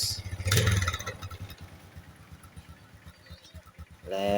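A Honda XRM 125 motorcycle engine runs close by at a steady idle, with a brief louder rev near the start and a rapid mechanical clatter throughout.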